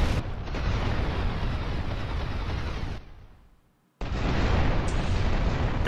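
A big explosion in GTA Vice City roars loud and continuous for about three seconds, trails off into near silence, then a second dense burst of blast noise erupts and holds at full strength.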